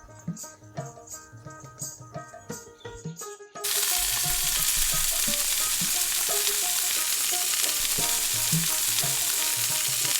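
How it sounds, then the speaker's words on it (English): After a few seconds of clattering, toddy palm malpua batter drops into hot oil and a loud, steady sizzle takes over and continues. "Let's fry them one by one."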